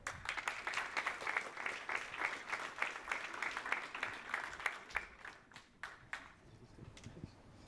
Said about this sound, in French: Donc je vous invite à accueillir et applaudir chaleureusement Monsieur Yazidi.